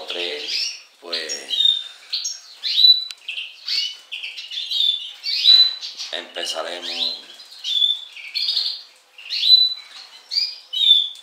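A caged greenfinch sings in bright, rapid bursts of trills, chirps and wheezy notes, continuing throughout, while someone talks over parts of the song.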